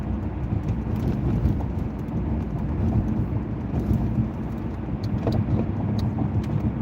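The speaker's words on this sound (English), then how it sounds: "There's a little bit more road noise because I have the tires more inflated" Steady low rumble of tires on pavement fills a car interior, a constant droning road noise with faint rattles on top; the tires are over-inflated.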